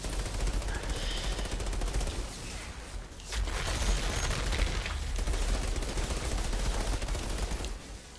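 Rapid gunfire in the video game Outriders, a dense, continuous automatic-weapon barrage with a brief dip before resuming, loud and steady throughout with no talking.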